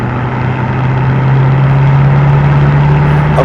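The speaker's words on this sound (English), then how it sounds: "music to my ears sort of a sound from the exhaust system" A 2016 BMW M6 with the Competition Package drones steadily through its exhaust while driving, a smooth, even low hum that is present but not harsh, with no talking over it.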